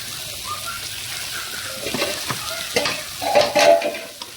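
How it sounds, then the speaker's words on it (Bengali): A spoon stirs cumin powder into simmering meat in a pot, making soft scraping and bubbling sounds that rise into louder clattering stirs toward the end. "এই গোস্তগুলোতে আমরা এখন জিরা গুঁড়া মিশ্রিত করে নেব"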